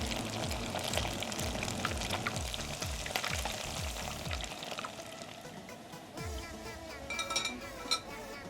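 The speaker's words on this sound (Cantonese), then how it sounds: "打咁大條咧，我哋大概炸佢4分零鐘啦。" Korean cheese corn dogs deep-fry in fresh hot oil, giving a steady loud bubbling sizzle with a few clinks of utensils and no talking.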